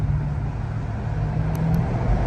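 Idling city traffic at a red light, heard from inside a widebody Scat Pack, a steady low rumble of engines close by, with no talk.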